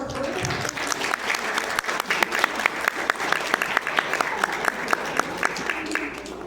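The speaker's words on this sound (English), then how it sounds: "So I would like everybody just to give her a round of applause for her." Audience at a Mother's Day banquet breaking into sustained applause, dense close clapping with a few voices underneath.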